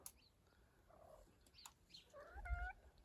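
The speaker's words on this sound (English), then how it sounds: "And a squeaky cat." A cat gives a few short, squeaky, high meows near the end, faint against quiet room background, with no talking.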